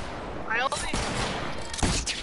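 Shotgun blasts in a video game, a few sharp, fairly quiet shots spaced across a couple of seconds amid background game noise and a faint voice.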